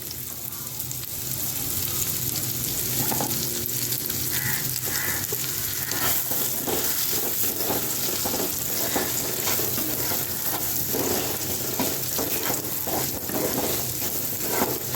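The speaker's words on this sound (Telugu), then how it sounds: "అదే నూనెలో ఇదేనండి ఉల్లిపాయ ముక్కలు కోసి పెట్టుకున్న ఉల్లిపాయ ముక్కలు వేస్తున్నానండి" Onion pieces frying in oil left over from frying paneer, a loud, dense sizzle with stirring scrapes and bubbling pops, close up and constant, no talking.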